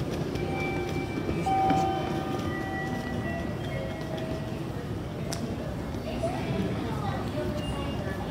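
Steady rumble of a train at a Japanese railway station platform, with faint tonal hums and occasional clanks, continuous and fairly close.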